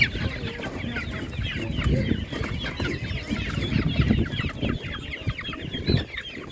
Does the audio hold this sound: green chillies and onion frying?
no